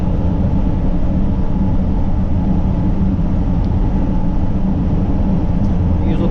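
A 2008 Otokar Sultan 125 S minibus engine drones steadily at around 130 km/h, a loud, continuous low rumble mixed with road and wind noise that stays unchanged throughout.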